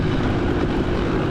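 A Husqvarna TE300 dirt bike engine drones steadily and loud during a cross-country race, a continuous close rumble with no talk over it.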